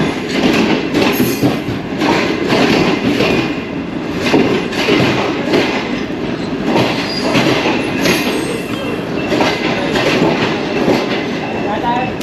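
The Shalimar Express rumbles into Nawabshah station with a dense, steady roar of wheels and carriages, rhythmic clacking pulses and some high squeal, loud and close throughout.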